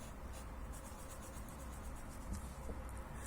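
Pen scratching across paper while writing music notes during a solfège lesson, a soft, steady rubbing and scraping heard faintly and close up with no talking.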